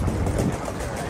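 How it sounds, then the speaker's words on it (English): A ferry crossing at Hamilton Island: a steady, close engine rumble and broadband water wash run without a break, with indistinct voices blended into the background. "First time riding by ferry."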